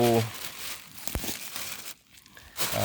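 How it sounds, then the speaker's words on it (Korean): Plastic mulch film torn and crumpled off potato rows in a vegetable garden, crinkly rustling with a sharp rip partway through, close and fairly loud. "이렇게 비닐을 이제 뜯어주는 그런 작업을 해야 됩니다"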